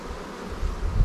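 Honey bees buzz around the hive in a steady, close, low hum that swells near the end, with a faint outdoor rustle underneath.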